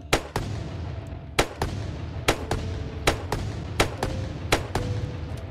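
Roughly a dozen sharp gunshots fired at a wooden wall in Unturned, spaced in an uneven rhythm of pairs and singles, each crack loud and close followed by a short thud.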